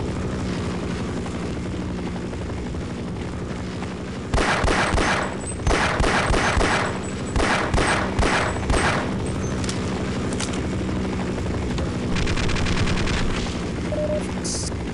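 Enemy military helicopter in Half-Life, its steady rotor drone running throughout while rapid machine-gun bursts come in several loud clusters over the constant whir.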